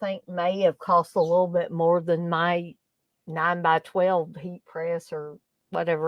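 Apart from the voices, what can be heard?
No distinct noise like a dog, phone or traffic.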